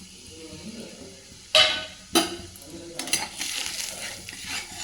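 A spoon stirs halwa cooking in ghee in a pan, with a soft scraping bed under two sharp metallic clanks and a burst of busier stirring and clinking near the end.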